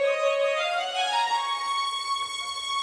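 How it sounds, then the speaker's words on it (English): Big orchestral strings fill climbing up the scale into the second chorus of a Disney-style song arrangement, sustained bright tones rising steadily, loud and full with no talking. "we have to do a big strings fill up the scale going into the second chorus"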